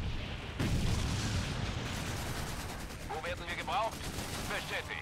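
Gunfire aimed at a repair crew in the WWII strategy game Blitzkrieg 3, with rapid dense shots and booms under a busy battle din, while a voice talks over part of it.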